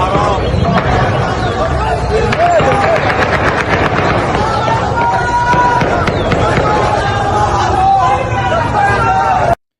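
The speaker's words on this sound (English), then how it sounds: "What you're hearing is celebratory gunfire." Celebratory gunfire in Beirut: scattered sharp cracks and pops ring out over a dense, steady wash of crowd hubbub and background noise for the whole stretch.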